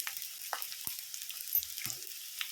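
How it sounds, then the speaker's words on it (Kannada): Onions frying in a pan for a chicken gravy, a faint, quiet sizzle punctuated by a few soft stirring scrapes and taps. "ಒಂಜಿ ಕಂಡೆ ನೀರುಳ್ಳಿ ತಗೊಂಡು ಮಲ್ಲ ಬ್ರೌನ್ ಮಲ್ಕೊಂಡು ಫ್ರೈ ಮಾಡ್ಕೊಳ್ಳಿ"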